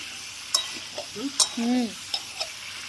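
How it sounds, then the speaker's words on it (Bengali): Raw mango pieces with nigella seeds frying in a pan, a soft sizzle under sharp scrapes and clinks of a spoon stirring, close and intermittent, with no talking. "আমটা নরমও হবে, আমটা ভাজা হয়ে যাবে ভালো"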